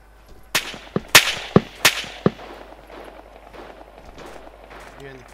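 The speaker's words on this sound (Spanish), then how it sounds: "Disparos del sur." Several sharp gunshots crack in quick, uneven succession, loud and close, in Arma 3, followed by quieter ambient game sounds.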